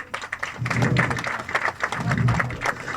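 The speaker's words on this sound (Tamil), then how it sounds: "அவருக்காக ஒரு பலத்த கரகோஷங்கள் நம்ம வந்து கொடுத்துடலாம்" An audience at a film audio launch event for the movie Kaliparai claps for the music composer, a moderate, uneven patter of hands filling the hall that swells and eases over a few seconds.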